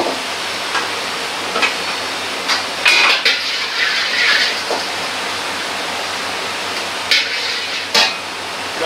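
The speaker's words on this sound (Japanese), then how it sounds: "フライパンをよく焼いて油をなじませます。" A Chinese wok being heated and coated with oil while making fried rice, heard as a steady hiss of heat with scattered metallic clinks and scrapes, close by, with no talking.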